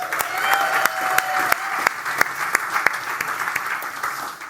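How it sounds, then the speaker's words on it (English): A church congregation claps in sustained, fairly loud applause, with distinct sharp individual claps standing out from the steady crowd sound throughout. "So can we give everybody online a round of applause?"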